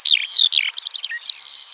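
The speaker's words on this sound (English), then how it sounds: "So this is the song of the skylark" A skylark sings over an open bog, a loud, close run of rapid chirps, trills and whistled notes. The phrases are quick and varied, with brief gaps between them, and no voices or other sounds.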